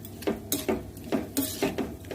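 Rice flour and milk being stirred in a cooking pot, with a utensil scraping and clinking against the pot in a steady rhythm of about five strokes, close and moderately loud, with no talk.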